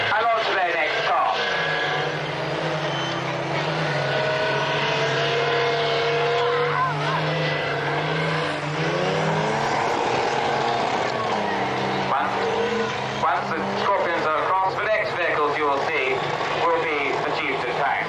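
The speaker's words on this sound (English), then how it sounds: "you'll see that the Scorpion reconnaissance cars are crossing" Heavy engines rumble steadily as Scorpion armoured reconnaissance vehicles roll past nearby at a battle display, with a loud, continuous drone and an indistinct voice mixed in.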